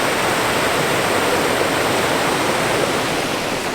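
A waterfall in Chiang Mai gives a loud, constant broadband roar of falling water that stays steady and close throughout, without any voices.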